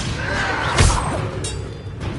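A Confringo fire-blast spell from the Hogwarts Legacy video game bursts once as a sharp, heavy thud over a continuous dense roar of game noise, with smaller crackles trailing after it.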